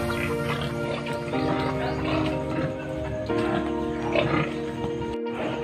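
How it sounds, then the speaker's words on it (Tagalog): Sows in a clean farm pen on a pig farm, grunting and snorting in layered overlapping calls with some shuffling, fairly close and steady throughout, no talking. "Ito mga inahing to mga kamaster."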